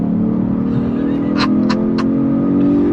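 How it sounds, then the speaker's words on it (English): A 2023 Genesis G70 performance sedan engine running steadily under load on a twisty road with a steady drone; during the downshift, three short sharp bursts stand out clearly near 1.4, 1.7 and 2.0 seconds. "On the downshift."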